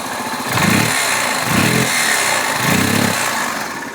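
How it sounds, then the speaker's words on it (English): A Yamaha BW200 Big Wheel engine revs up close in three distinct bursts, each throaty rise swelling and dropping back over a steady running rumble, with slight bogging at high revs. "Once again, I'll give it a few more revs."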